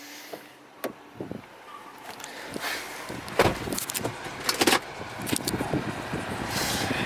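A Dodge Charger R/T's door opens and thunks shut as someone climbs in, with scattered clicks, rustles and shuffling around it, the handling noises close and moderately loud against a quiet background.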